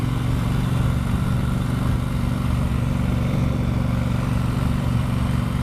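A Triumph Bonneville Bobber's engine drones steadily while riding, a low continuous rumble mixed with dense wind noise throughout, with no voices.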